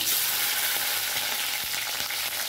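Chopped tomato dropped into hot oil for a fish curry, setting off a loud, steady sizzle and crackle of frying that fills the whole moment without pause, with no voices.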